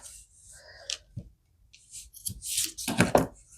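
Scissors snip through yarn behind a finished weaving on a loom, a few sharp close cuts clustered near the end after quieter handling noises, with no talking.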